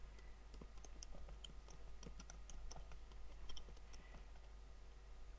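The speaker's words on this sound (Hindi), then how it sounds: "देखें लेट सपोज़ अगर यहाँ पर मैं लिखता हूँ" Fast, steady typing on a computer keyboard, a run of light clicking keystrokes that carries on for several seconds at close range over a low background hum, with no talking.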